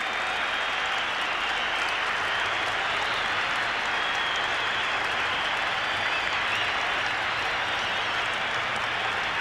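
A large crowd at an AFL football game applauds and cheers at half-time, a dense, continuous roar of clapping and voices that holds steady from start to finish.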